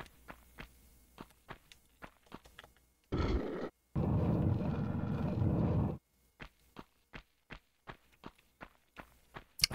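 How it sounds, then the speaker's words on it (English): Footsteps in the 1996 PS1 game Tomb Raider tap in steady sequences of crisp, evenly spaced steps, broken midway by a few seconds of a loud roaring burst of noise. "Just some footstep sound effects and nothing else."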